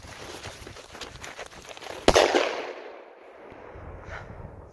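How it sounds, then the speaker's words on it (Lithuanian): A firecracker (petard) explodes outdoors on a hillside with one sharp, loud bang about midway through, followed by a brief crackling, rumbling decay that fades into quiet, with rustling before it. "tai turėtų būti įdomus sprogimas"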